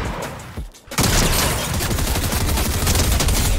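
Sustained full-auto combat SMG fire in Fortnite, a dense loud rattle of rapid shots after a brief pause, continuing unbroken to the end.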